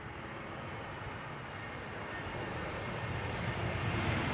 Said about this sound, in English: EasyJet A320neo having arrived from Gatwick.